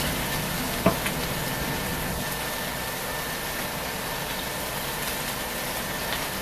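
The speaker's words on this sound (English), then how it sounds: "just to kind of saute these up" Vegetables sautéing in a pan for a patty melt, a steady broad sizzle that holds at one level throughout, with a single sharp knock near the start.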